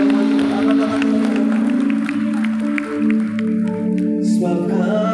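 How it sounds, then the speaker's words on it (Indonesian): Church congregation clapping and cheering at a sermon, a steady dense wash of applause with a crowd murmur and sustained music tones underneath, fairly loud throughout. "Kita berikan tepuk tangan yang paling meriah buat Tuhan"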